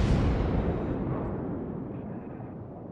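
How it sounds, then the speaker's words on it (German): A British battleship's main guns fire a salvo in World of Warships, a loud booming blast that fills the whole stretch and rumbles away slowly. "Okay, eine Salve kriegen wir noch auf das Schiff."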